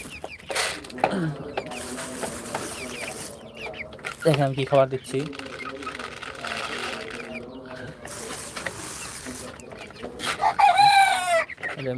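Hens being sold from a small farm cluck intermittently close by while a person talks, and a rooster lets out one loud crow near the end.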